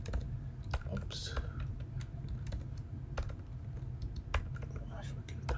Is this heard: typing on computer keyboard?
yes